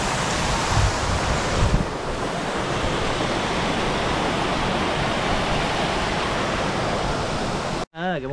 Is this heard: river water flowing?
yes